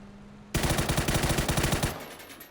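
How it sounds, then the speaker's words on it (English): Rapid automatic gunfire in a competitive shooter game, a fast burst of about a dozen sharp, loud shots in steady rhythm lasting over a second before cutting off. "Purdy Curdy taking some shots over Alo"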